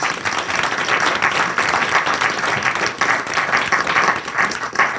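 Sustained applause from a seated audience at an African American Studies panel discussion, dense steady clapping that swells and holds for several seconds with no voices over it.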